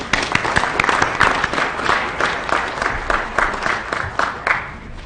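A board meeting audience breaks into steady applause, many hands clapping together in a dense, sustained burst lasting several seconds in a large room.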